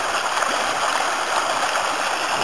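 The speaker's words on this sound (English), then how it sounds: "these little streams" Small mountain stream running after a day of rain, a steady close rush and gurgle of water flowing continuously with no other sounds.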